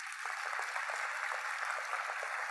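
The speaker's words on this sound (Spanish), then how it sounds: "Así que un fuerte aplauso, por favor." Applause from a crowd, a steady, fairly soft patter of many hands clapping continuously without any talking.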